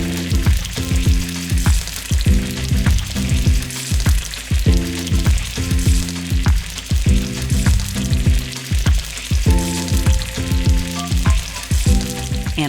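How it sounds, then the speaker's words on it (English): Refried beans with plenty of their cooking liquid, ladled by big spoon into hot oil, sizzle and fry steadily, with a rhythmic series of stirring or scraping knocks repeating through the sizzle. "Once the oil is hot, use a big spoon to ladle in the beans"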